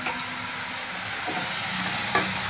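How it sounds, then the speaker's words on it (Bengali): Onion and garlic paste frying in a pan, a steady loud sizzle with occasional scraping strokes of stirring, close and without talk. "পেঁয়াজ রসুন বাটাটা এবার ভাজা হয়ে গেছে।"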